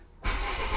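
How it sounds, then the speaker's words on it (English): A car engine turns over and catches, its steady low roar starting abruptly after near silence and carrying on close by. "so I can start the car"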